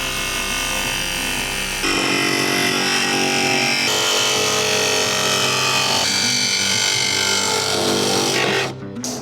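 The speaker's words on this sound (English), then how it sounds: "Now I'm going to go ahead and get the jigsaw and cut out the intake hole for the snorkel." A jigsaw cuts an intake hole for a snorkel through the fender of a Toyota 4Runner, giving a loud, steady buzzing rasp that runs almost continuously, with a brief change in pitch partway through, before stopping at the end.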